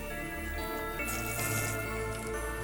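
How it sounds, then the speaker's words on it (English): A poured fizzy drink of Sprite within a played hip-hop song: liquid drips and splashy pouring sounds sit inside a dense music mix with steady bass, lasting a couple of seconds. "Sound like he's pouring some Sprite."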